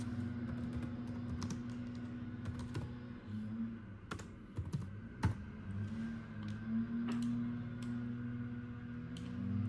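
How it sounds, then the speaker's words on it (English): Rapid clicks of typing on a computer keyboard come in irregular bursts, soft and close, over a steady low machine hum with no talking. "I'm just going to type in the text"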